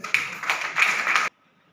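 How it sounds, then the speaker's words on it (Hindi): Audience applause at a Safe Shop business gathering, a brief burst of dense clapping lasting just over a second before cutting off abruptly into near silence. "एक बार जोरदार तालियां।"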